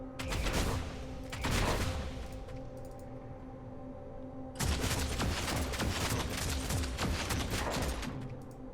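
Heavy gunfire volleys from Warhammer 40000: Deathwatch erupt in two dense bursts of rapid shots, a dense crackling barrage, separated by a brief quieter lull.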